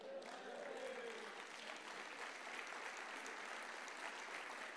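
A church congregation applauds steadily throughout, a dense, even wash of clapping from many hands in a large worship space, with faint voices and a brief sung or spoken tone mixed in near the start.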